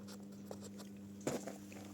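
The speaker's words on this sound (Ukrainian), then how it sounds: "Дощик накрапає." Light drizzle patters softly outdoors in a village yard, a faint scattering of small irregular taps over a steady low hum, with no voices.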